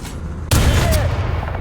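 A single heavy tank cannon shot in War Thunder lands as a sudden loud blast after a quiet stretch, then rolls into a long rumbling decay with no voices heard.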